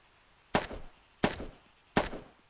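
Three evenly spaced gunshots from a video game, each a sharp crack with a short decaying tail, hitting a player, moderately loud with quiet gaps between them.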